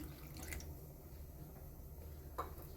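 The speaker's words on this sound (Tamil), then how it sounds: "அதனால் நான் கொஞ்சம் மட்டும் தண்ணி விட்டுக்கிறேன்" Water trickles and splashes softly into a pressure cooker for a greens curry, a quiet steady pour with a faint drip near the end.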